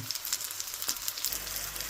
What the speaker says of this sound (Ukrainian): Таким чином смажимо хлібні котлети із яблучком.